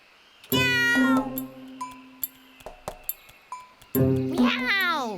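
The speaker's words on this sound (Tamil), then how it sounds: "meow meow meow meow meow meow" A cartoon cat meows in two long, loud wailing bursts with sweeping pitch, separated by a run of short pings and clicks, from a Tamil children's animation.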